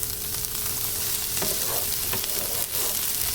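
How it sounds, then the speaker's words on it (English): Chopped onion and bell pepper sizzle in olive oil in a pan, a dense, loud, unbroken frying hiss with faint crackles throughout. "I am caramelizing it in some olive oil because I don't like crunchy onions or bell peppers"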